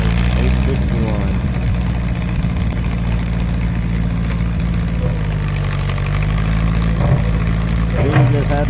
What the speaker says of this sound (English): this is with our new old 1957 Ford tractor